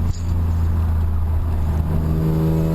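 A supercharged 3-litre BMW E36 engine pulls hard on a race track, a loud close drone whose pitch climbs, with a shift near the middle before it rises again.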